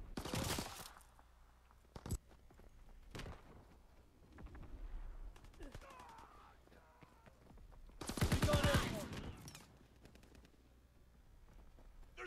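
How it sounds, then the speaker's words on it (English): Strafing gunfire from a fighter plane in the Call of Duty WWII video game: loud, rapid bursts of rattling shots at the start and again later, with rumbling explosions and quieter battle noise in between. "Fighter pilot inbound, strafing the target."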